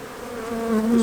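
Honey bees buzz at an open hive during a January inspection, a dense, steady drone close by that swells slightly in pitch and loudness, with no talk.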